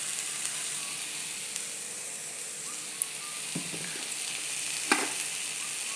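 Potato and bitter gourd fry in a pan, a soft continuous sizzle close by, broken by a few sharp clinks and scrapes of stirring near the middle and end, no talking.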